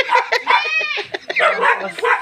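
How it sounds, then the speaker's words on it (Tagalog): A dog barks at a child's fourth birthday party, giving quick close yips and barks mixed with a whimpering whine, all within a couple of seconds. "Nag-hilak sa aso si Umi."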